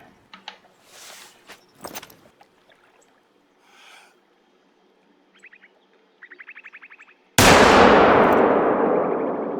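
A rifle fires at a bull in the hunting game theHunter: Call of the Wild, Layton Lakes: quiet scattered rustles and clinks lead up to one sudden, loud, close report whose boom rolls out and slowly fades.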